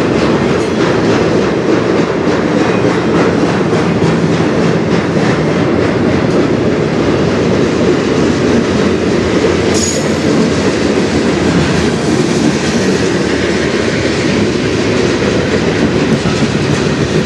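A freight train hauled by three locomotives rolls past close by and gathers speed, with loud continuous wheel clatter, rhythmic clickety-clack and metallic rail noise, and a brief squeal near the middle.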